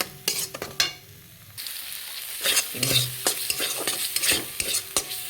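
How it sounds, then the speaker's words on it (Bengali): Bengali spice paste for roasted cauliflower is stirred and fried in a pan, a spoon scraping and clattering in irregular bursts over a soft sizzle, close and fairly quiet. "মশলাটাকে কষিয়ে নেব"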